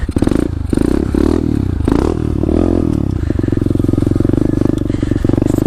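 A pit bike's small engine revving hard through a wheelie, loud and close, with rattling clatter and thumps early on before settling into a steady buzzing drone.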